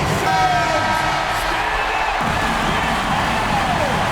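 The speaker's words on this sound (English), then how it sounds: "Man, you gotta love hearing a crowd get this fired up" Basketball arena crowd at a PBA semifinal game between TNT and Rain or Shine roars and cheers after a game-tying shot, a dense, sustained wall of noise with a few whistles rising through it.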